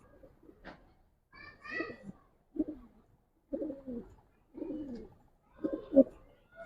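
Giribaz and coloured pigeons coo in a series of soft, low, throaty phrases, close and fairly clear, with brief pauses between calls and some faint background noise.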